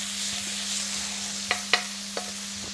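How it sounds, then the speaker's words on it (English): Pork sizzles steadily in a hot pan while being stirred, a close frying hiss broken by a few sharp clicks and scrapes of the utensil against the pan. "just moving this around so that pork is sealing up"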